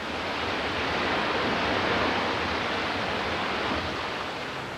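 Colorado River rapids in the Grand Canyon roar as a dense, steady rush of whitewater, loud and continuous with no voices.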